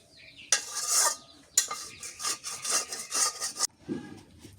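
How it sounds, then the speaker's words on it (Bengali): Jute leaves stir-fry in a pan with close, rhythmic scraping and rubbing strokes of a spatula in two long bursts, broken by a short pause, then ending in a softer clatter. "এখন পাটের শাক ভাজি করি।"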